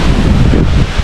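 Strong wind buffets the microphone, a steady low roar with rushing noise throughout, no voices.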